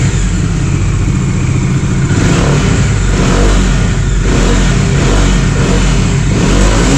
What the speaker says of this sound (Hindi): एक बार थोड़ा सा एग्रेसिवली रैप करके देख लेते हैं क्योंकि टेस्ट राइड ज़रूरी है